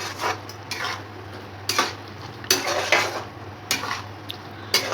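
Paneer bhurji being stirred with biryani masala powder in a pan, a utensil scraping and clinking against the metal in irregular strokes over a faint low hum, close and fairly loud, with no talk.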